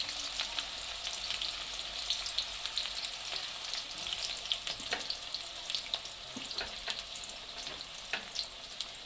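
Chopped onions fry in a pan with a steady, close hissing sizzle throughout, broken by occasional soft scraping stirs and no voices.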